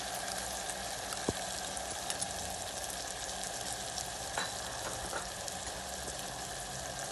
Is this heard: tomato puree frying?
yes